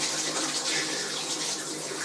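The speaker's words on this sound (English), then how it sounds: "Okay, so now I need to wash my hands." Tap water running steadily into a sink while hands are washed, a close continuous splashing rush with no voices.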